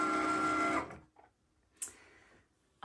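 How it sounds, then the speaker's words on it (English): An electronic cutting machine cuts star shapes from an SVG file for quilting, its steady motor whir running alone for under a second before stopping, followed by faint, brief clicks and shuffles. "we're just gonna let it cut out the stars"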